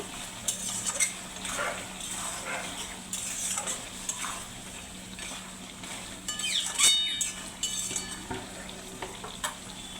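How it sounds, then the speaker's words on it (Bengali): A spoon stirring curry cooking in a pot, repeated scrapes and metallic clinks in an irregular rhythm over a faint sizzle, close and moderately quiet, no voices. "আবার একটু নাড়িয়ে চাড়িয়ে নেব।"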